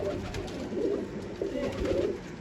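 Soft, repeated pigeon coos in low rolling phrases, two or three calls close by with a steady background hum and no talking.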